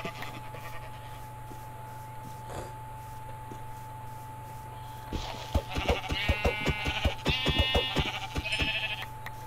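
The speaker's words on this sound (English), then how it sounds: "Oh, there's tons of sheep." Minecraft sheep bleat repeatedly in the second half as a flock is encountered, with rapid harmonic calls layered over steady game background hum, fairly close and moderately loud.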